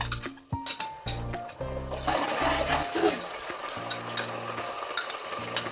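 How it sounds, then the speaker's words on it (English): Ginger garlic paste frying over high flame with browned sliced onions in a pan for Mumbai-style mutton dalcha, heard as a bright sizzle punctuated by utensil clinks and stirring, with tonal hum in the background. "Fry for a minute on high flame"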